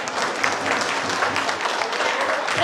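An audience at a Romanian folk festival of customs and traditions applauds an award announcement, a steady, moderately distant wash of clapping throughout.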